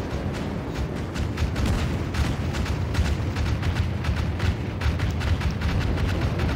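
Naval shelling in a warship battle game: a dense, continuous barrage of booming explosions and artillery fire with scattered sharper cracks layered over a rumbling low roar throughout.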